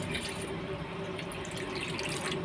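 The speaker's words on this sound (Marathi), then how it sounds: "पाणी छान भरपूर घालायचं आहे।" Water pours steadily into a cooking pot for pakoda kadhi, a continuous close splashing flow with a faint ringing tone underneath, no voices.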